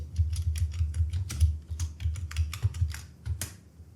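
Rapid typing on a computer keyboard while entering labels into an Excel spreadsheet, a steady run of close, crisp key clicks with a low hum underneath and no talking.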